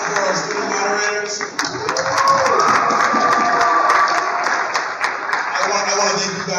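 Audience applause and cheering fill a school alumni panel event, steady crowd clapping sustained throughout with voices mixed in over the noise.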